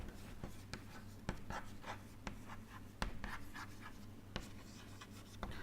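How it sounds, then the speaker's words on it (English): Handwriting during a fluid mechanics lecture on pressure-driven flow, with quiet, close scratches and sharp taps of the writing tool repeating in an irregular rhythm over a low room hum. "let me write it properly"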